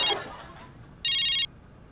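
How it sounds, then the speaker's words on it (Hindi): A telephone rings once with a short, bright electronic trill near the mic, following a moment of faint background sound. "फोन आया, फोन।"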